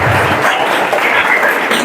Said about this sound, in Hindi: मैं चाहता हूँ कि सभी लोग के तालियों के माध्यम से हमारे बच्चे का स्वागत अभिनंदन करें।